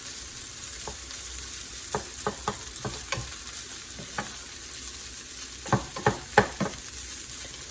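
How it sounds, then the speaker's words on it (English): A utensil scrapes and stirs fried rice and vegetables in a pot, producing scattered soft clacks against a low steady sizzle, with a quick cluster of louder strokes near the end and no talking. "Mix my vegetables in really well with my rice."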